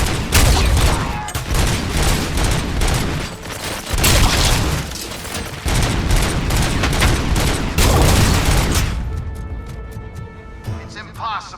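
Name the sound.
gunfire in the RoboCop Rogue City video game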